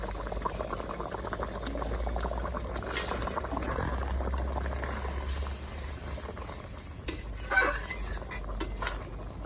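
Water bubbling at a boil in a cooking pot while mustard hilsa is prepared in a village kitchen, a steady rumbling simmer throughout, with occasional clinks of a spoon or utensil against the pot near the end.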